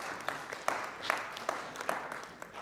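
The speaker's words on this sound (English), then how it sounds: "So a round of applause for you, please." An audience at a motivational talk claps together, a moderate and fairly steady spread of hand claps with a few sharper individual claps standing out, heard from a little distance.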